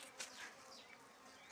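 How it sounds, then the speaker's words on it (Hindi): Honey bees buzz around a kept hive outdoors under a cloudy sky, a steady hissy drone with faint passing whines of individual bees close by, and no voices. "मधुमक्खी हैं ये।"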